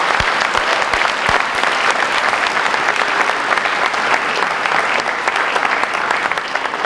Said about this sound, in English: So how about a huge round of applause